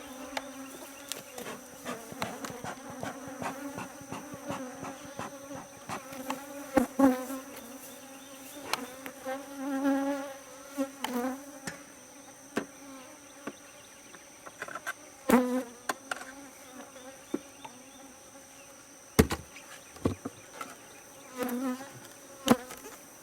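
A dense swarm of honeybees drones steadily close by during a hive inspection, its buzzing rising and falling in pitch and loudness for over twenty seconds with no voices.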